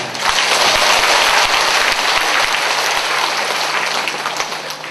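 Dense, sustained applause from a lecture audience at a laughter-themed talk held at the Yeongdo district office in Busan, loud and continuous, tapering slightly toward the end.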